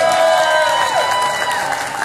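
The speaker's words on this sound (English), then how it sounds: "Please make a big round of applause for them." A crowd at an outdoor Christmas lighting event in Surrey applauds and cheers for a band, a loud continuous wash of clapping with a sustained tone running over it.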